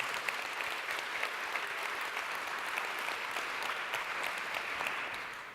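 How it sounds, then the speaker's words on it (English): An audience applauds a speaker at a leadership talk on luxury, a sustained even wash of clapping from a room of people, moderately distant. "can we give a big hand of applause for Patrick?"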